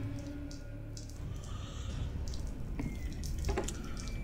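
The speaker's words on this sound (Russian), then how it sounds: "А ничего, что у нас там где-то вода льется, а?" Water running somewhere in a horror video game, a steady low wash of flowing or dripping water under the game's ambience, with a few faint higher clinks and ticks over the four seconds.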